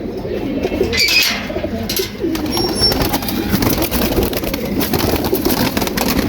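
Pigeons in a loft coo and call nearly continuously at close range, with a faint engine or traffic rumble underneath and no talking.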